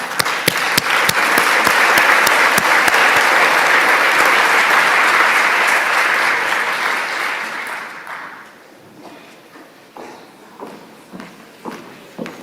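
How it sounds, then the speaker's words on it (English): An audience at a UN summit on groundwater gives sustained applause that holds strong for about eight seconds, then fades to scattered claps and footsteps. "Sous vos applaudissements."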